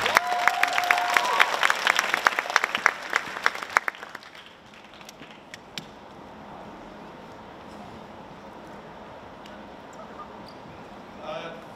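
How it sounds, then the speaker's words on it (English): Whole-school assembly applause for a student about to speak: loud clapping and some cheering with a brief whistle-like tone for about four seconds, then it drops away to a quieter, murmuring room. "Let's give him a round of applause."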